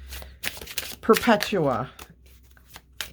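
A deck of tarot cards is shuffled by hand, with crisp riffling flutters and taps close up, while a person talks over it during a reading.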